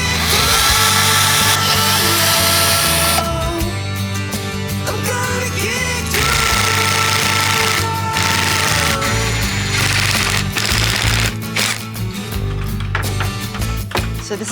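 A power drill runs in long, loud bursts during an outdoor garden build, its motor whine rising and falling over steady low background noise for the whole stretch.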